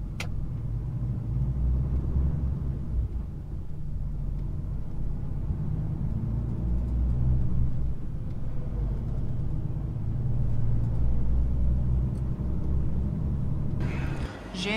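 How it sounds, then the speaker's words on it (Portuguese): A concrete truck drives along a road in Spain, a heavy low engine rumble that swells and fades as it passes, with voices talking over it. "E aqui esse caminhão acho que vai sair ali para despejar o..."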